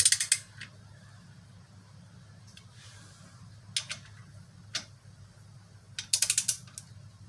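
A ratchet clicks in short bursts while tightening the clutch pressure plate bolts on a Jeep 4.0 engine during a rebuild, quick close rattling pawl clicks separated by brief pauses over a quiet hum, no talk.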